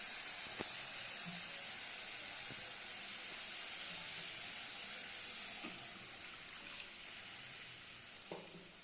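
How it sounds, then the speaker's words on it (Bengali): Water going into a pan of fried spice paste for a fish curry with bori: a steady, even sizzling hiss with a few faint clicks and taps, and no voices. "এবার আমি জল দিয়ে দেবো"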